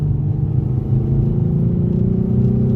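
A Nissan 350Z/G35 fitted with Manzo cat-delete test pipes at full throttle in third gear, a loud, deep exhaust drone rising steadily in pitch, recorded near the rear bumper.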